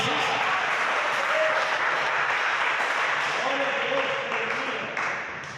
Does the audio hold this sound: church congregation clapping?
yes